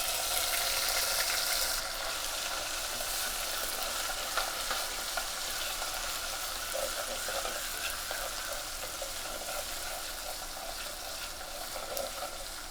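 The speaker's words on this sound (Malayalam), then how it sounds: "ഇഞ്ചി വെളുത്തുള്ളി പേസ്റ്റ് നല്ല വതങ്ങി വന്നിട്ടുണ്ട്." Ginger garlic paste fries in hot oil for a Kerala fish curry, a steady close sizzle with light stirring that continues without a break and softens slightly toward the end.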